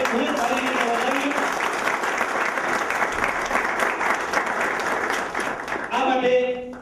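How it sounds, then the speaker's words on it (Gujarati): Dense, steady clapping from an audience at a Bhuj photographers' association gathering, welcoming a speaker, sustained for several seconds before tapering off as a voice begins to speak. "આપણે સૌ મિત્રોને વિનંતી કરીશ કે તાળીઓથી એમને આ બાબત માટે ખૂબ જ સારી રીતે વધાવીએ."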